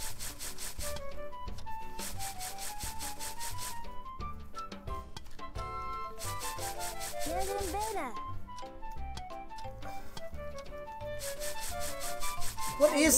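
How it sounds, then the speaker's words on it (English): Cheese being grated in the Cooking Mama Cook Off video game: repeated rhythmic scraping strokes in short bursts over cheerful game music, with a voice talking throughout. "We're grating cheese?"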